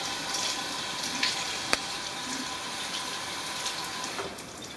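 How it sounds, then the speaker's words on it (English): Cold water runs steadily from a sink tap while a Norwex EnviroCloth is wetted, a constant close splashing hiss with a few small clicks and knocks. "you're going to just walk over to the sink and you're going to wet it with cold water"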